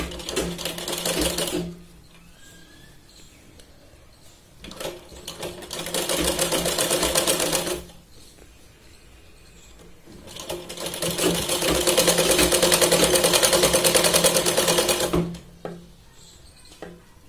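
Sewing machine stitching a katori blouse, fast rattling bursts of stitches in three runs separated by short pauses, close and loud, the last run longest.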